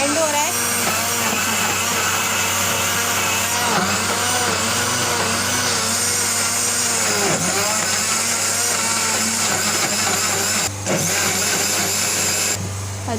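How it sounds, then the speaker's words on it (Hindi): A kitchen blender runs continuously, churning a green coriander chutney with tomato and white cumin, its loud, steady motor whine holding throughout with a brief dip near the end. "अब ये ब्लेंड हो रहा है।"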